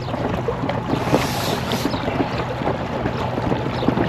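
A small electric boat motor on a 3D Tender 290 inflatable tender drones steadily with wind and water noise around it, a continuous rumble that holds for the whole stretch without talking.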